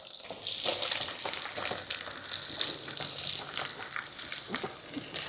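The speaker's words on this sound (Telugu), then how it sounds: "ఉల్లిగడ్డ జర పండు పండు వేగాలండి మిరపకాయలు మంచిగా వేగినాయి" Onions and green chilies, with curry leaves, frying in a pan for Telangana-style gongura chicken: a steady, bright sizzle with crackling bursts throughout.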